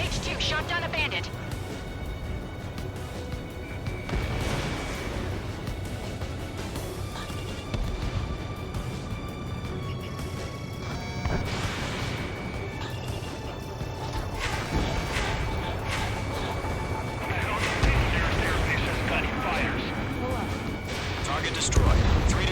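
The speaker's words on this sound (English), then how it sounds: "Mage 2, missile away. Mage 2 shot down a bandit." Missile launches and explosions in the combat flight game Ace Combat 7, heavy booms and rumbling blasts recurring over a continuous engine roar, with radio voices talking over the action.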